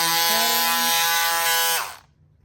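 Pink cordless electric power scissors cutting through folded marine vinyl, a steady close motor buzz that runs continuously and cuts off sharply near the end.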